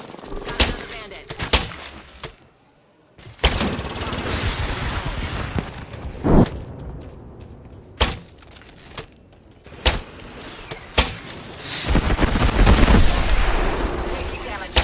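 Gunfire crackles in Apex Legends, repeated sharp shots and bursts scattered over about fifteen seconds, some close and loud and others further off, with a rumbling battle bed underneath.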